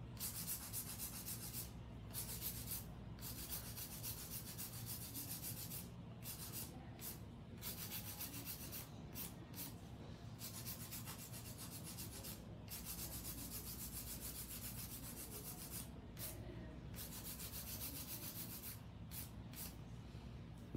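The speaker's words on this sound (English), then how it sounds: "A little bit of hand filing" Steady, continuous rubbing and scraping of a hand file smoothing an acrylic powder nail into a V oval shape, close and even throughout with brief pauses between strokes and no talking.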